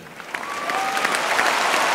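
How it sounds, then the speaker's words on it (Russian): A concert audience of about 4000 applauding, a broad continuous roar of clapping that swells slightly over two seconds, with a faint whistle-like tone running through it. "мне очень бы хотелось слышать ваши аплодисменты"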